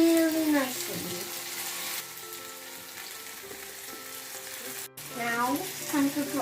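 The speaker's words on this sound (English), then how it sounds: "Now we need to put garlic, ginger, juice paste in. Okay. Well, we need to fry it really nicely." Garlic and ginger paste sizzles steadily in hot oil for a lamb curry, a continuous frying hiss with occasional stirring scrapes and a voice talking over it.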